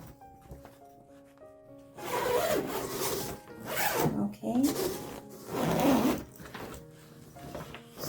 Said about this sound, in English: So it's a zipper.